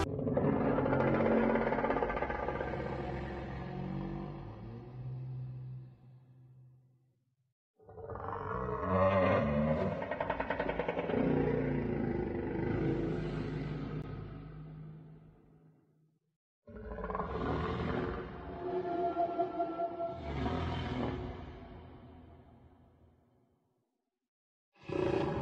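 A monster in Fortnite gives a low, sustained roar while resting, three long rumbling swells separated by brief silences, steady and unhurried with no talking.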